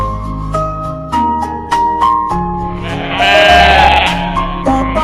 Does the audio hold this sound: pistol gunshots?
no